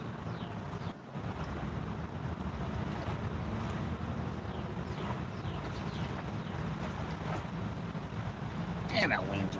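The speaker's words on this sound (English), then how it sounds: "that wind's ripping" Strong wind roars and buffets the microphone steadily on an open lake during a fishing outing, with lapping water and a boat-like rumble underneath, and a voice speaks over it.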